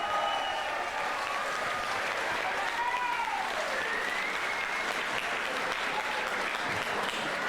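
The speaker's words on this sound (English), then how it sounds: "give both of these fighters a round of applause." A crowd at an amateur MMA event applauds the two fighters after a bout, a sustained roar of clapping with whistles and cheers rising above it, continuing evenly throughout.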